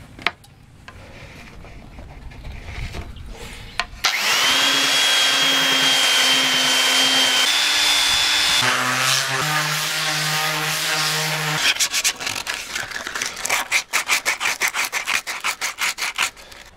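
A wooden chair piece with spalted grain is sanded with a powered sander, giving a loud, steady whine with shifting pitch that gives way to rapid, rhythmic rubbing strokes toward the end.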